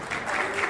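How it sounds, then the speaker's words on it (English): Brief burst of audience clapping at a launch opening event, a soft, steady patter of many hands heard from a distance for under a second. "what about a clap for Susanne Tepe as well then?"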